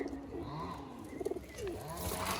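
Pigeons cooing together in a loft in Jaynagar, a steady murmur of soft, repeated coos at close range with a brief burst of louder calls midway, no talking.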